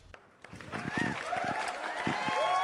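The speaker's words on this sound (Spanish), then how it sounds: "Aplausos para nuestra Margarita Enríquez." Studio audience applause on a Spanish-language comedy show builds into steady, moderately loud clapping that continues under a voice and some cheering.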